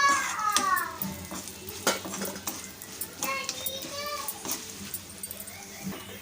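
Cashews and asafoetida stirred in a pan while cooking a moong dal and rava tiffin, heard as scattered clinks and scrapes of a spoon against metal, close and moderately loud, with speech over it.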